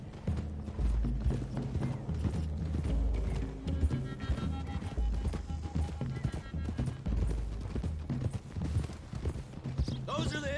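Horses gallop along a video game road with a steady clip-clop of hooves under loud music and mechanical clatter, while speech runs over the whole stretch.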